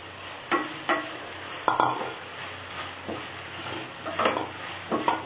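Okra (bendi) frying in a pan with coriander powder, a soft steady sizzle broken by several scraping, clattering stirs of a spoon against the pan, close and even, with no talking.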